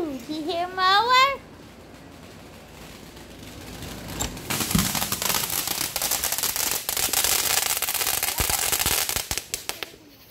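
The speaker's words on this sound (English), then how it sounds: "Let's look outside at their fireworks." Fireworks crackling and popping outside on the Fourth of July, a dense sizzling crackle with sharp bangs building up after a brief voice at the start.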